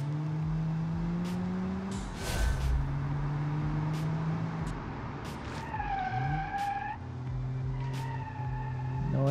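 ZAZ Tavria drifting and skidding in Automation: sustained tyre squeal and skid noise over a steady engine drone, with the engine pitch rising and falling as the small car slides and recovers through corners.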